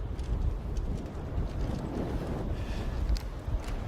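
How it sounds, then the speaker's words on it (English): Strong wind blows across an outdoor ravine as a steady, rough rumble buffeting the microphone, with no one talking. "it's windy as fuck out here"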